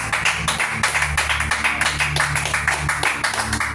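A congregation at a French-language revival church meeting clapping together in a steady, rhythmic beat over sustained music, the claps loud and evenly spaced throughout.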